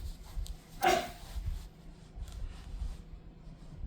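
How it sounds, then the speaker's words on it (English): A single short dog bark cuts through a quiet outdoor background with low rumbling noise. "No barking when I'm filming."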